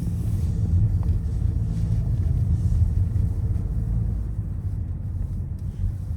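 Inside an Audi A6 with a CVT gearbox climbing mountain roads, a steady low engine and road rumble fills the cabin without pause, even and unbroken, with no talk.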